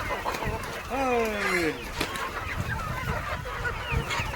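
Free-range village chickens gather for a morning feed of paddy, giving a mix of clucks and one drawn-out, honking call near the start, with faint voices and rustling around them.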